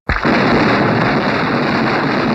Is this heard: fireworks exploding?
yes